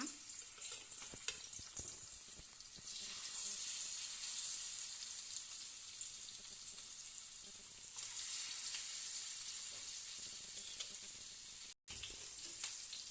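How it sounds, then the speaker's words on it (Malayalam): Fish frying in a hot pan for a homemade fish fry: a steady, dense sizzle that stays loud and even throughout, with no one speaking. "ഓരോരോ മീനായിട്ട് എടുത്ത് ഇട്ട് കൊടുക്കാം പാനിലേക്ക് ഇടുക"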